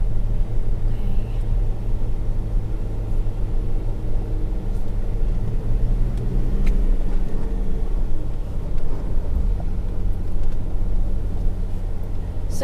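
A 4x4 vehicle driving along a shoreline, its engine a steady low rumble with continuous road and wind noise throughout, close and loud with no talking.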